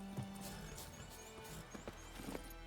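Hooves of the horse Roach clip-clop in The Witcher 3 video game, a steady trotting rhythm of soft, close knocks under music and ambient game sound, with a brief horse snort near the start.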